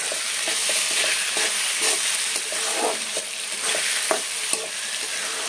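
Tomatoes and lemon juice fry in oil in a pan as they are stirred, giving a steady close sizzle broken by scraping strokes of the spoon at an irregular pace.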